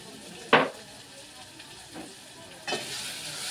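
Spices with turmeric fry in a pan in a low, soft sizzle, marked by a sharp scrape of stirring early on and another scrape near the end.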